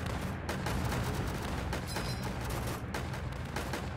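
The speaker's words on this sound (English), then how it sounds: "Oh, I should try an artillery barrage." Artillery barrage and airdrop bombing in the Northend Tower Defense video game: a dense, continuous rumble of repeated booms and blasts, loud and sustained throughout with no speech.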